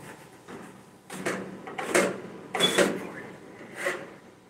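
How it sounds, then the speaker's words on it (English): A server blower module slides into a rack-mounted chassis during a home datacenter build and clicks into place, giving a few close, soft scraping slides and clunks of moderate loudness. "The blower goes like this, and then it locks in"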